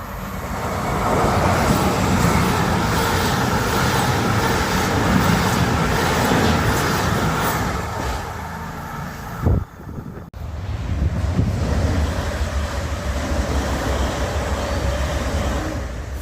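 A pair of Class 159 diesel units, 159103 and 159006, pass on a line in southern England toward London Waterloo. The loud, steady rumbling roar of the passing train dips and cuts off briefly near the middle, then resumes.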